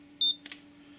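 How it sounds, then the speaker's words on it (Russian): A single short, high-pitched beep from a piezo buzzer on an Arduino-controlled window blind controller, followed by a couple of faint clicks over a low electrical hum. "Раздается такой писк. Это я использовал пьезо, пищалку."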